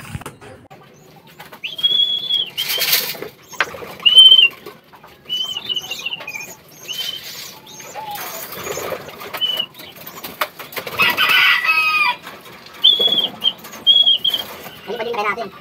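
Racing pigeons at feeding time in a loft, with soft coos, brief wing flaps and scattered whistle-like chirps, while a person talks intermittently close by.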